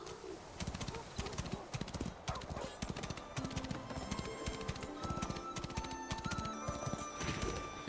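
Horse hooves galloping in the video game Where Winds Meet, a rapid rhythmic clip-clop running steadily throughout, near and moderately loud, with game sound effects layered over it.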